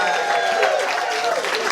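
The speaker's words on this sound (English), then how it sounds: "Give Chris a round of applause" Audience applausing a stand-up comedian at a comedy show, a steady wash of clapping and crowd noise mixed with a voice talking over it.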